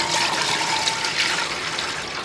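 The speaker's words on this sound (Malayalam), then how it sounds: "കുറച്ച് വെള്ളം അങ്ങോട്ട് ഒഴിച്ചു കൊടുക്കാം" Water poured into an appam pan for a Kerala evening snack makes a steady, close splashing rush that continues without a break and eases slightly toward the end.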